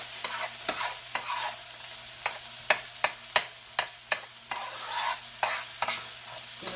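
A teaspoon of garlic sizzles in a hot pan with a continuous close hiss. Sharp utensil clicks and scrapes come at an uneven rhythm, with no talking.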